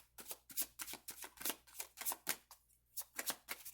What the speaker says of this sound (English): I was getting ready to shuffle the deck